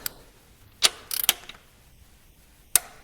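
A torque wrench tightens the cylinder head bolts on a classic Alfa Romeo GTV, giving sharp ratcheting clicks in separate bursts, one quick rattling run in the middle, close and crisp.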